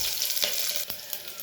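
Onion browning in a pan, a short, even sizzle up close with a couple of soft stirring scrapes.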